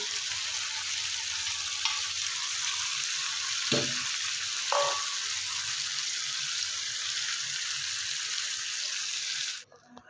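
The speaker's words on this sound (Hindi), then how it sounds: "कचनार ऐड करने के बाद अच्छे से इसकी भुनाई कर लेंगे, मिक्स कर देंगे इसको।" Chicken with boiled kachnar flowers frying in a thick gravy, a steady loud sizzle running throughout with a couple of brief utensil knocks, then cutting off abruptly near the end.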